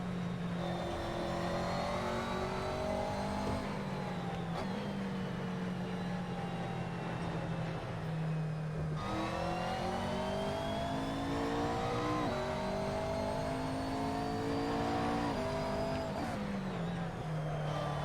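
A race car engine in a sim racing video game drones loudly and continuously, climbing in pitch through each gear, then dropping sharply at the shifts, with faint tyre noise beneath and no talk.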